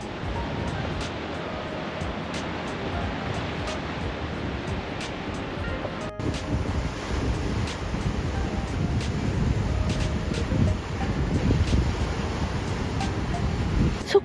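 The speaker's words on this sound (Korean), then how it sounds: "저 파도가 돌에 닿는 소리가 검은고 소리 같다" Sea waves wash and break against rocks on the shore below a seaside pavilion in Sokcho, a continuous surging rush that grows slightly louder and rougher toward the end.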